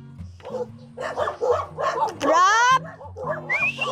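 A dog barks and yips repeatedly, fairly close, with a whining, rising whimper in the middle, while people talk over it.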